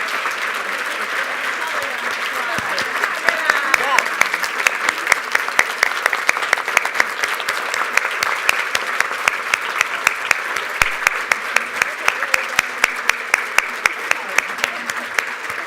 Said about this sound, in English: But I would love for you all to please give them a round of applause